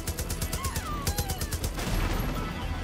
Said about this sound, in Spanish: He escuchado tiros de pistola